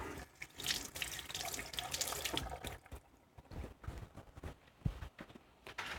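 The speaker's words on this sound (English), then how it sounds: "let's go ahead and wash our fingers off" Tap water runs steadily over fingers at a kitchen sink while a Texas-style steak is being prepared, a close, continuous splashing rush with small irregular spatters and brief knocks, heard alone without talk.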